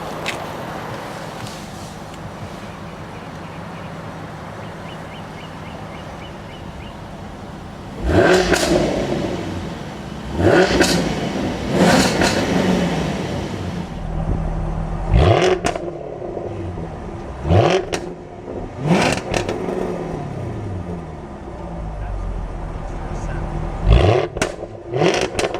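A 2014 Jaguar F-Type V8 S with sport exhaust stands quiet at first, then fires up and revs in several loud, sharp blips with crackling overrun between them, heard close by.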